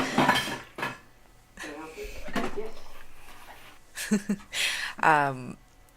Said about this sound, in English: now I'm gonna quickly, with the help of speedy stuff, stir this up